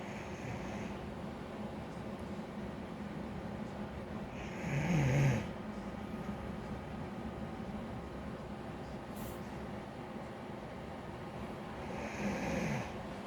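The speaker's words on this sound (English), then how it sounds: "Yeah, do you hear my voice? I was snoring." A person snoring softly. Two low, rasping snores come about seven seconds apart over a quiet, steady background hum, and no one speaks.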